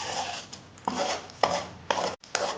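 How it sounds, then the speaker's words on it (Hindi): A spoon stirred and scraped through thick besan halwa in a pan, four or five distinct rasping strokes in a steady rhythm, close and fairly loud. "ये देखो इसको चम्मच चलाती जा रही"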